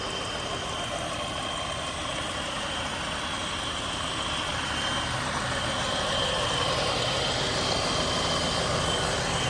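A 1988 Cadillac Seville engine idling steadily and smoothly, droning evenly throughout with a constant hum and no talking.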